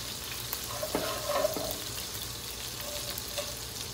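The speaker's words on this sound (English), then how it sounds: "I'm going to add the ghee. I'll add jeera. Then I'll add the hing." Cumin seeds and asafoetida crackle and sizzle in hot ghee in a pan, a steady close frying hiss with a few brief stirring sounds and no talking.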